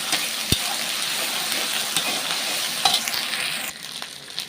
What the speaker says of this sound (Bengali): তো আমাদের আদা রসুনটাকে একটু তেলে ভালো করে নেড়ে নিতে হবে